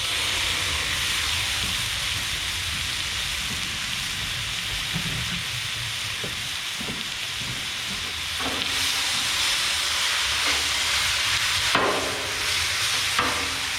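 Ground lamb and wild hog sizzle on a Blackstone griddle, a loud continuous hiss with scraping spatula strokes breaking through now and then, close and steady throughout.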